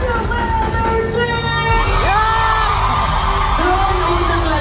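A concert crowd at a show in Sydney yells and whoops loudly and continuously, rising cheers and shouts filling the space close up.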